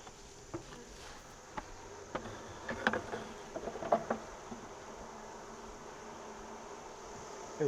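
Honeybees buzzing faintly and steadily around an opened hive during a frame swap, a soft continuous drone with scattered light taps and clicks, no voices.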